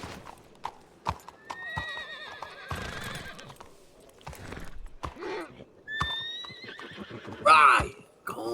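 A horse in a western role-play video game whinnies several times amid uneven clip-clopping hooves, with thuds and people talking over it.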